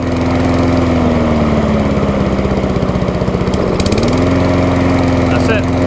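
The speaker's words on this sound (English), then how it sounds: "Nice big 21-inch mower." A BCM Big 20 21-inch lawn mower engine runs steadily and loud throughout, holding one pitch before dipping briefly and rising again as the throttle changes.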